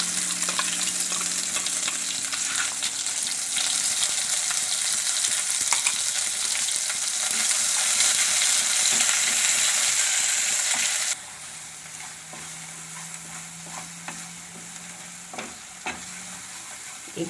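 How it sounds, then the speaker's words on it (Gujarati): Ground gravy poured into a hot pan of cauliflower and peas for a Gujarati curry sizzles loudly while being stirred, then drops to a quieter, steady bubbling simmer with occasional spoon scrapes. "તો હવે આપણે આ ગ્રેવી નાખી દેવું."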